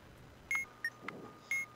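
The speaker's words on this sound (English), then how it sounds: "Let's do that needy module that just beeped." An electronic needy module on a bomb panel in the video game Keep Talking and Nobody Explodes gives three short, high, clean beeps spaced irregularly, with a soft click between them and no talk.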